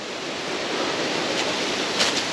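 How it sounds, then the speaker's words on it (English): A small waterfall in a creek on a forest bushwhack, heard as steady broadband rushing water close by, continuous and even, with no talking. "Another cool little waterfall."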